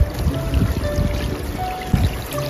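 A clear snowmelt stream flows over stones on a hillside sprouting lily of the valley, giving a steady, close rushing and trickling with a few brief splashy bursts, and no voices.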